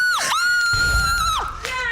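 A woman in a paternity courtroom shrieks and cheers in high, sustained, pitch-swooping screams, loud and close, with a brief rumble of other voices beneath.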